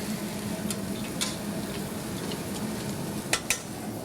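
Food toasting and sizzling in a pan in a kitchen in Greece, with a steady frying hiss throughout and a few sharp clinks of a utensil near the end.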